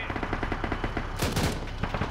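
Rapid gunfire aimed at aircraft in a military video game, an armored column retaking an airfield in Eastern Europe: a steady stuttering burst of shots, with a louder, sharper volley cracking through midway.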